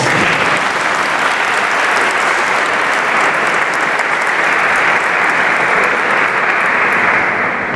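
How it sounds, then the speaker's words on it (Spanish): A conference audience claps at length, a dense, steady wash of applause that stays even throughout with no talking over it. "Un aplauso."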